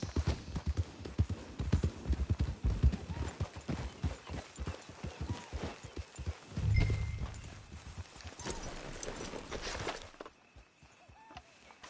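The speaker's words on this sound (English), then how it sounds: "It's your horse." A horse's hooves clip-clop in Red Dead Redemption 2, a quick run of close, distinct hoofbeats that thin out and slow near the end before stopping, with faint background sounds.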